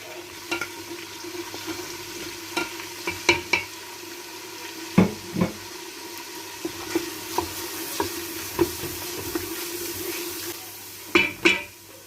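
Nihari masala fries in a pot with a little water added, a soft steady sizzle beneath irregular scraping and stirring knocks, close and without talk.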